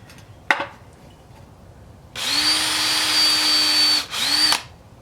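An electric drill runs on the upper control arm bushing of a C3 Corvette, starting after a brief knock and whining steadily for about two seconds, stopping briefly, then spinning up again for a shorter burst, close and loud.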